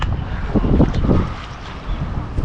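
Wind gusts along a bay shore on a hot day, a steady loud rush with slow swells in strength and no voices.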